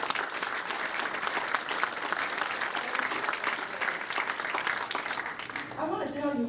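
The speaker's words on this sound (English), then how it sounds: "Give him a big round of applause." A keynote audience at a police foundation event breaks into loud, sustained applause, dense and even, fading near the end as a voice starts speaking.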